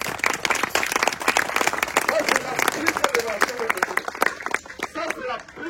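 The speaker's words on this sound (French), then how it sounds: "Applaudissez pour la parole de Dieu." Congregation applauding at a church gathering, dense sustained clapping from many hands throughout with a crowd murmur underneath, fairly close and steady in loudness.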